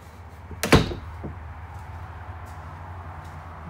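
An RV exterior door on an Avalanche 378BH travel trailer gives one sharp thunk of closing against a quiet room background, followed by faint light knocks.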